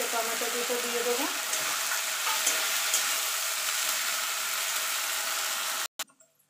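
Ground spice paste and two small chopped tomatoes hit hot oil in a pan for a rohu fish and cauliflower curry, sizzling loudly and steadily with some stirring scrapes before the sound cuts off abruptly near the end.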